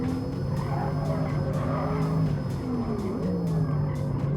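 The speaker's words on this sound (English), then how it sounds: "take a onboard lap with the Porsche Taycan Turbo S around Nordschleife" A Porsche Taycan Turbo S, the 2020 electric sports sedan, laps the Nordschleife in Gran Turismo Sport, with a steady electric drive whine that rises and falls and tire squeal through the corners, loud and continuous throughout.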